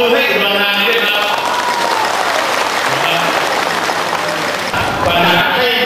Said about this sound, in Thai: ปรบมือให้อุดรธานีด้วยครับ